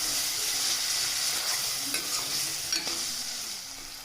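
Tomato sizzles and fries steadily in a pan, with a few soft scraping stirs of a spatula partway through.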